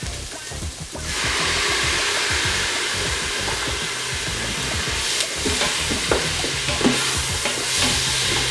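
Tomatoes hit a hot pan of browned garlic ginger chili paste and sizzle loudly and steadily, with spoon scrapes and stirring knocks cutting through the frying noise.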